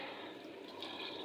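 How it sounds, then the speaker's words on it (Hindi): Soft trickling of water being poured into a pot of cauliflower and potatoes cooking in ghee on a stove, a quiet continuous splashing with no voices. "थोड़ा सा पानी मैंने डाला है।"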